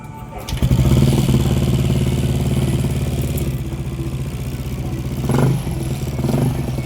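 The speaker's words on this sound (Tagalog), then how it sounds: "wala sa normal yung minor ng motor" A Yamaha NMAX 155 V2 scooter engine idles unevenly close by with a steady low drone that wavers in pitch, briefly surging around the middle before settling back.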